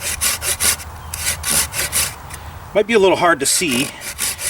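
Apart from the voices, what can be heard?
sawing a series of notch cuts into wood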